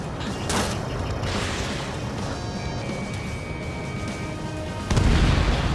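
A destroyed armored personnel carrier explodes in the Ace Combat 7 combat flight game: dense, sustained crashing blast noise over roaring jet ambience, with a sharper, louder burst near the end.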